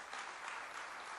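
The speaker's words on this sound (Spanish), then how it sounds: "Denle aplauso al Señor" Congregation applauding the Lord during a Spanish-language church worship service, a steady, dense wash of clapping filling the room without break.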